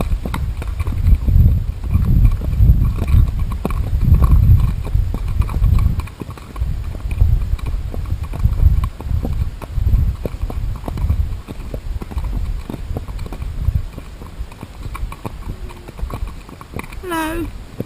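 Horses' hooves clip-clop steadily on a forest ride, a rhythmic mid-distance patter continuing throughout under people chatting.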